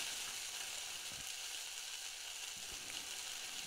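Steady, bright sizzling hiss of onions sweating in a pot for curry, continuous and even, with a couple of soft stirring knocks.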